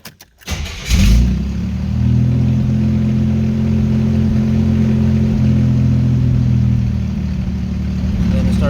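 A 1983 Buick Regal engine with a rebuilt Edelbrock carburetor cranks, catches and settles into a loud, rough idle that sags and wavers as if about to die, close-up and steady for several seconds.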